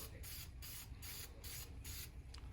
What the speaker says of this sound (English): I'm spraying all these down as well.